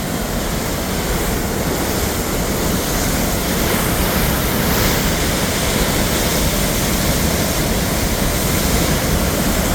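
A loud, steady roar of rushing water pours continuously over the Clearwater Lake spillway in Missouri, broad and unbroken in full flow, with no voices.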